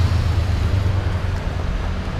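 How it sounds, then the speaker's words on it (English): Dense London street traffic with transit buses rumbles steadily nearby, a low continuous roar of engines and tyres with no voices over it. "Traffic is crazy."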